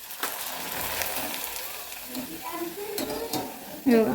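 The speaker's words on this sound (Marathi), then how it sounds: "हाता एवढं पापडे तळून घेते" Papads, thin lentil wafers, frying and puffing in hot oil, a steady soft sizzle with a few utensil clinks and scrapes near the end, close by.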